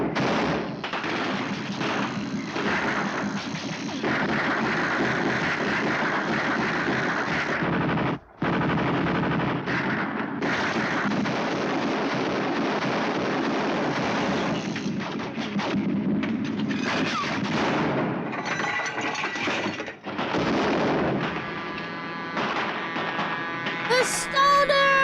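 Gunfire and machine gun fire from the 1954 film Suddenly, loud sustained rattling bursts and overlapping shots with booming impacts, nearly continuous with a brief gap, plus faint shouting voices mixed in.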